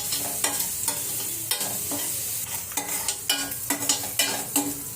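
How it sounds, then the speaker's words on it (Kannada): Ingredients for fried rice fry in a pan over a low flame, a gentle sizzle broken by repeated spatula scrapes and taps that grow more frequent toward the end, with no talking. "ಇದನ್ನು ಲೋವರ್ ಫ್ಲೇಮಲ್ಲೇ ಇಟ್ಕೊಂಡು ಫ್ರೈ ಮಾಡ್ಕೊಳ್ಳಿ"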